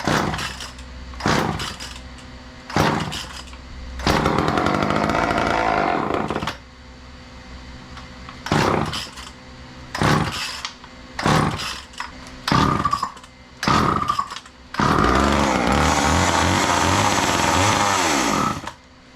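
An old, junky trash-picked chainsaw engine sputters to life in repeated loud, short bursts, then revs in longer sustained snarls near the microphone, with no talking.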